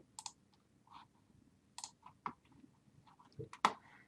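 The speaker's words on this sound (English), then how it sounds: "So once you're done, go ahead and click save." Scattered faint clicks of a computer mouse at a desk, a handful of sharp separate taps spread unevenly over a few quiet seconds, with no talk.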